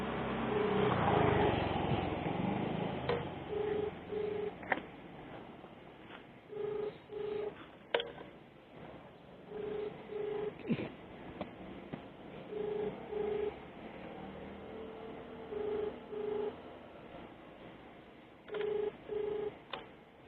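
A phone call placed outdoors, with a brief burst of dialing tones followed by a long run of paired ringback tones repeating at steady intervals over faint background noise, close and clear, with no talking.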